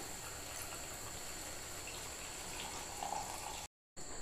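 Brewed tea decoction, made by boiling tea leaves in water and straining, poured into a pan of egg roast, a steady close liquid pour with no talk.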